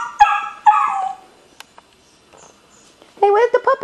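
Mother dog and puppies in a pen, with a few short whimpers and yips near the start and a burst of high yelps near the end, separated by quiet.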